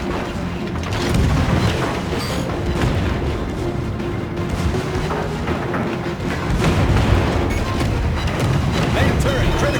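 Naval guns fire and shells strike a battleship in World of Warships, producing dense, continuous rumbling booms and heavy thuds that overlap with no clear gaps, loud and close throughout.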